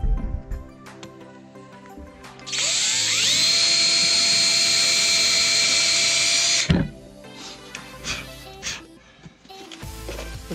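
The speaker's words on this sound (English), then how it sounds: "the drill obviously is going to cut into the wood, and then this piece here will cut the plug hole" A power drill fitted with a plug cutter bit bores into teak wood while rebuilding boat steps, a loud steady high whine lasting about four seconds, with quieter handling clatter before and after.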